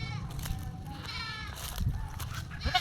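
A goat bleats a few times, soft and somewhat distant, with faint background noise.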